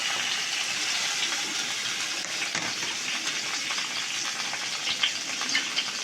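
Two tomatoes fry in a little oil in a pan for urad dal chutney, a dense steady hiss of sizzling that stays even throughout with a few faint stirring clicks near the end.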